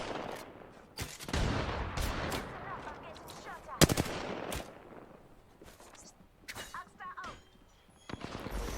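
Gunfire in an Apex Legends arena match, with bursts of automatic shots and sharp single cracks scattered through the round, loud and close, alongside other game effects.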